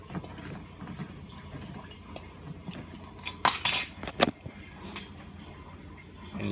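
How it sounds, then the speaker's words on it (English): A spoon stirs nutritional yeast into salsa to make a cheese-style sauce, giving quiet scraping and clinking against the dish, with a few sharper taps clustered in the middle of the stretch. "And you just mix it in like that. Take a spoon and blend it all together."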